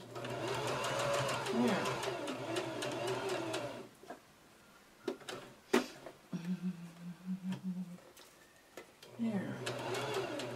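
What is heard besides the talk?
sewing machine stitching a kawandi quilt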